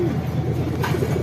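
Pigeons coo steadily and close by in a poultry yard, a low rolling murmur with a brief brighter rustle near the end.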